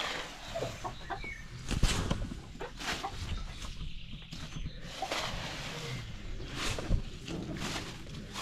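Hens cluck on a Lithuanian farm, irregular clucks and scratchy movement amid steady outdoor background noise, moderately close and not very loud.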